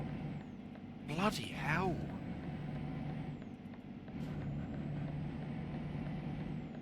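A truck in Euro Truck Simulator 2 gives off a thin, high, steady whining tone over a low engine rumble, with a short hiss; a man briefly exclaims over it.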